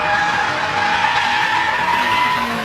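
Toyota GT86 drifting, tires skidding in a sustained, loud screech that holds steady throughout, with no talk over it.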